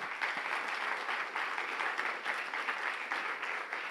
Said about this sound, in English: So a big round of applause for the team of the EDPS.